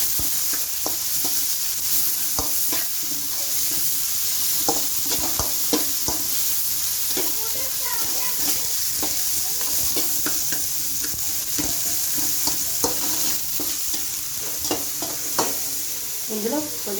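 Paneer frying until light brown, a steady sizzle with frequent scraping and stirring clicks from a spatula in the pan, close and continuous, no voices.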